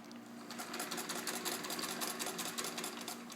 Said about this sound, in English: I'm going to start to do a little sewing here.